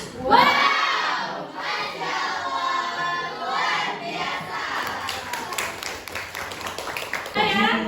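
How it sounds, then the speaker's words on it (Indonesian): A classroom of students applauds all the groups who presented today, with lively clapping mixed with cheers and children's shouts, and a teacher speaking over the start. "Kita kasih aplaus buat semua kelompok yang sudah presentasi hari ini"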